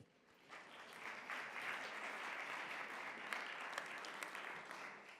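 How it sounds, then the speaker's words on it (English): Sustained applause from a conference audience honoring panelists at an investment summit's closing session, a steady dense wash of clapping that swells in quickly and holds at moderate volume with a few sharper claps standing out. "Another round of applause for them, please."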